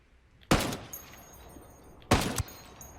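Two loud, sharp M110 sniper rifle shots in Ghost Recon Wildlands ring out about one and a half seconds apart, each a hard crack with a short echoing tail.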